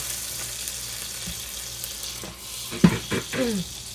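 Butter strips melting and sizzling in a pan on an electric burner while making ghee, a low steady frying hiss with a few louder bubbling pops and clatters near the end.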